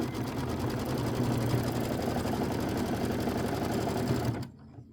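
A sewing machine runs steadily while stitching a quarter-inch seam on a traditional pieced quilt block, a rapid even whir that stops abruptly near the end, leaving quiet.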